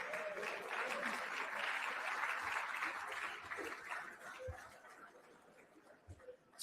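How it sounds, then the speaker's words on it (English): An audience applauds the winners at a golf tournament awards presentation, a steady broadband clapping that holds strong for several seconds and then thins out, with a few voices and brief chuckles mixed in. "we'd like to give them a round of applause for their big win"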